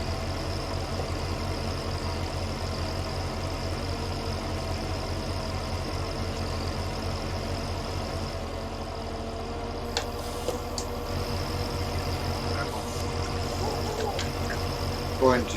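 A tractor engine idles steadily at close range during haymaking, a low, even rumble with a faint high whine and a few small clicks and knocks toward the end.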